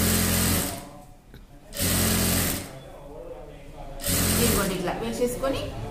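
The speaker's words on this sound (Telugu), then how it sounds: "ఇదంతా కూడా స్టిచ్చింగ్ చేసుకుంటూ రావాలి" A sewing machine stitches a small skirt for a four- to five-year-old child, running loud and close in three steady bursts separated by brief pauses.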